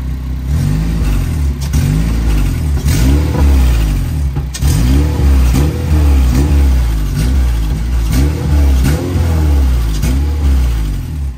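An Acura RSX engine on worn mounts revs repeatedly in rising and falling bursts, loud and close, with a steady rumbling idle between throttle blips.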